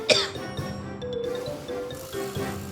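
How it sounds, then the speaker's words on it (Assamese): A single sharp cough at the start, followed by a couple of softer throat-clearing coughs, close to the listener and mixed with faint background sound. "নাই সাধাৰণ কাহ।"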